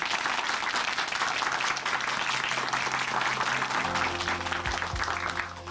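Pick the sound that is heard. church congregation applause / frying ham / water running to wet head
church congregation applause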